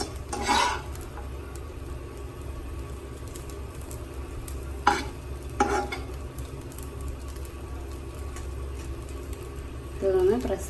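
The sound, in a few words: beef keema dosa sizzling on a pan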